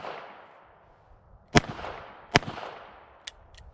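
Ruger LCR .357/.38 revolver fires three sharp, loud shots, spaced unevenly about a second apart, with a fainter fourth crack at the end. The reports ring out over quiet outdoor ambience with no voices.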